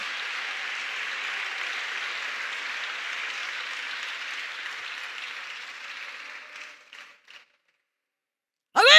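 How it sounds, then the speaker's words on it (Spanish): A church congregation applauding together in a large room, a dense, steady wash of clapping that fades out after about seven seconds, then a brief burst of voice at the end. "Oh, si ese aplauso es para Él de lo más fuerte."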